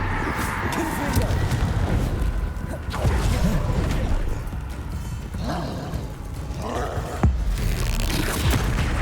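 Confringo spell explosions in the Hogwarts Legacy video game, several booming blasts spread across the clip, loud and close amid game effects and speech.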